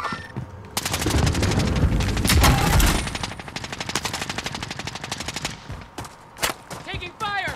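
Heavy automatic gunfire in Call of Duty Warzone: a loud sustained burst followed by a long rattling string of rapid shots, with game voice chatter underneath.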